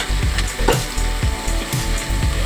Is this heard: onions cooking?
yes